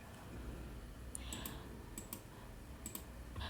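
Sparse, crisp mouse clicks while editing in CapCut Desktop, a few small taps spaced irregularly over quiet room noise, fairly close and light.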